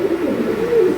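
A close pigeon gives a low, throaty coo that rolls steadily through the whole second, loud and clear with no talk over it.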